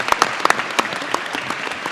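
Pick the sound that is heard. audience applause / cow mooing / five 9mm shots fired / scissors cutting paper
audience applause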